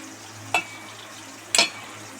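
Eggplant frying in oil gives a low, steady sizzle under a quiet hum, broken twice by sharp metallic clinks of a spatula against the pan about a second apart, with nobody speaking.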